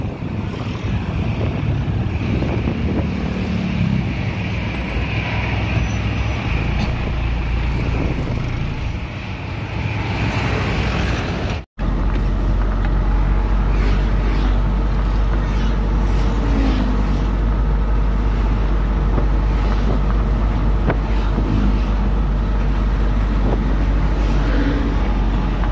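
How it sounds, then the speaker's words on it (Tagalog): Strong wind buffets the microphone with a constant roaring rush, broken only by a brief cut midway, then continuing with deep low rumble. "Lakas ng hangin mga guys."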